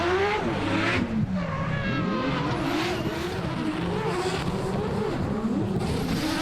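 Drift cars racing at Taupo Motorsport Park in a D1NZ event, a 20B rotary-engined car leading and an RB32-powered car chasing, engines screaming continuously at high revs with wavering pitch and tire squeal throughout.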